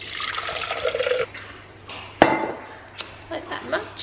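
Water pours into a shaker bottle for a protein shake in a short, close splashing burst, followed by clinks and handling knocks.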